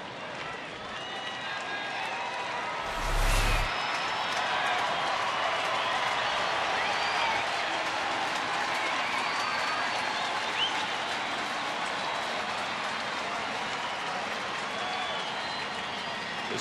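A baseball stadium crowd at a Seattle at Texas game cheers and applauds to urge the pitcher through an at bat; a broad, steady roar from far off with a brief louder burst early on, under a commentator's voice.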